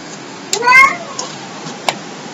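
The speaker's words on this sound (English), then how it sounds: "there goes my cat making noises" A cat gives a short meow in a quiet garage during work on a 1981 Chevy El Camino, a single brief call followed by faint clicks and a sharp tap.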